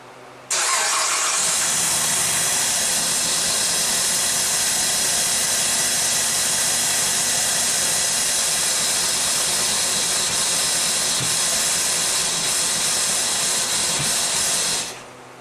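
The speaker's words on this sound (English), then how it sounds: "let's go for our first start. See what kind of noises it makes." A Chrysler 2.7 car engine, just repaired after a failed timing chain tensioner, cranks and starts, then runs at a loud steady idle with a hissing, rattly edge for over ten seconds before cutting off.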